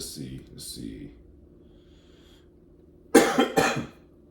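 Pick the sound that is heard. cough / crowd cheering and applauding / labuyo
cough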